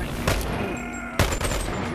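Two sharp gunshots in a shooter video game, about a second apart, ring out loud and close over a constant background game tone.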